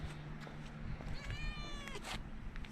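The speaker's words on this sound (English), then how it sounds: "there's a neighborhood cat that comes to us for food" A neighborhood stray cat gives a single drawn-out meow, fairly close, over low background hum and faint household noise.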